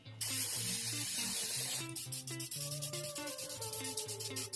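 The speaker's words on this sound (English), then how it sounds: "take everything outside and coat with matte black spray paint" Matte black spray paint hisses steadily from an aerosol can onto a foam terrain piece outdoors for about two seconds over background music, which then continues alone.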